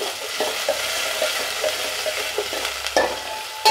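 Fenugreek seeds, mustard seeds, cumin and onions sizzle in hot oil for a Nellore-style egg curry, a steady close crackle with small pops and occasional scrapes of a stirring spoon, no voices.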